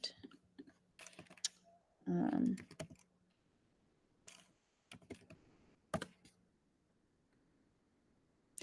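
Someone logs in by typing a password on a computer keyboard, with scattered clusters of close keystroke clicks separated by pauses, plus a brief louder muffled rustle or voice burst early on.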